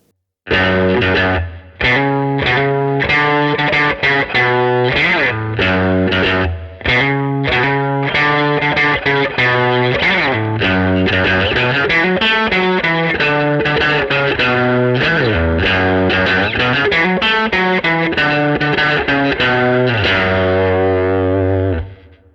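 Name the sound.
distorted electric guitar rock tone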